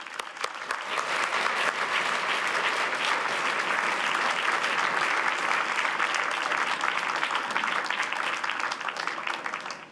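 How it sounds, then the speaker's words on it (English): A large audience applauds President Ursula von der Leyen, with dense, steady clapping sustained loud and unbroken throughout, with no talk over it. "So a big applause to President Ursula von der Leyen."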